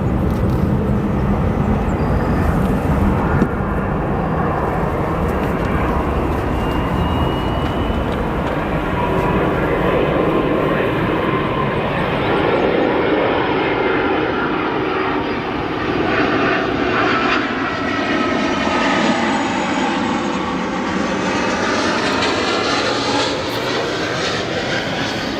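An SAS airliner operated by Hi Fly Malta rumbles past at Chicago O'Hare, a loud, sustained jet roar with a slowly sweeping pitch that fills the whole stretch without pause.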